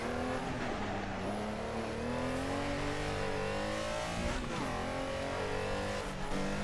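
A car in Assetto Corsa drives with a constant engine drone whose pitch climbs and dips as the revs change, loud and steady, with a brief rough bump near the end.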